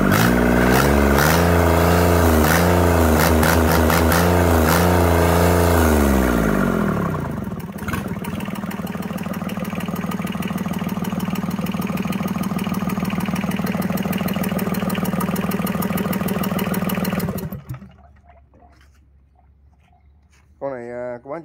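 A Yanmar 3T70 diesel engine revs high and then settles into a loud, steady idle with rhythmic knocking before stopping, followed by a short restart near the end.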